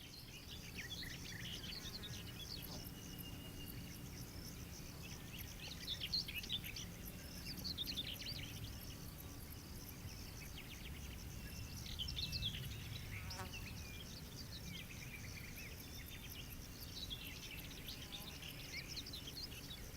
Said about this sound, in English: You're listening on YouTube, so you're probably hearing birds only.